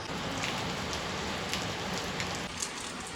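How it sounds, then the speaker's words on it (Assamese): Rain falls steadily at Laitlum near Shillong, a constant soft hiss of drops on surfaces with no voices, fairly faint throughout. "বৰষুণ দিছে"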